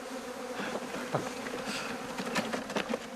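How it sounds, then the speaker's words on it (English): A swarm of honey bees buzzes close by in a dense, continuous drone, with individual bees whining past now and then. "we're going to capture these bees and we're going to put them in our cottage hive"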